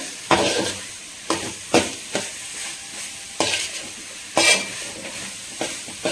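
A spoon scrapes and stirs a potato, cauliflower and brinjal stir-fry in a hot pan. Repeated strokes land over a soft, steady sizzle, with no talking.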